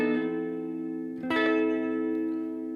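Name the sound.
electric guitar with delay and reverb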